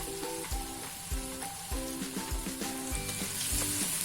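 Green garlic and tomato sauté in a hot pan, giving a steady, close sizzle and crackle from start to finish, with no talking.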